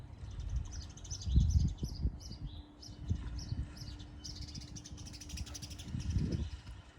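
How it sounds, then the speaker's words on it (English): Birds sing and chirp outdoors during an open-air yoga session, a scatter of faint, high twittering calls repeating over a low rumble of background noise. "The birds are singing"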